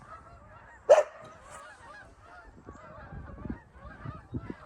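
A flock of birds flying overhead in formation on a cold day, with one sharp loud honk followed by a few fainter distant calls against a quiet background.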